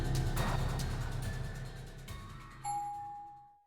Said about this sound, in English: The gentle chime of the elevator shattered the silence